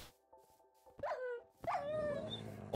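A Minecraft dog barks twice in sharp, separate yelps, the second followed by a drawn-out whine, loud and close over a quiet background with no speech.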